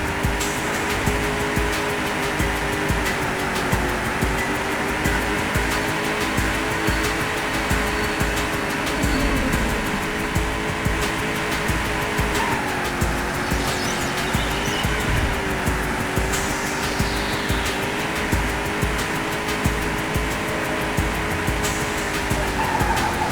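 Racing car engine from the PC racing game POD Gold on a final lap: a continuous, loud revving drone with shifting pitch and occasional tire squeal, no voices over it.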